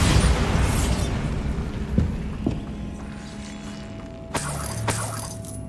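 A Bombarda spell explodes in the video game Hogwarts Legacy, with loud sharp blasts and crackling debris over a continuous rumbling game background, repeated a few times.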